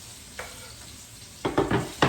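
Two jalapeños going into a pot of chicken adobo, a soft tap then a burst of sizzling and stirring clatter building near the end, close and fairly quiet.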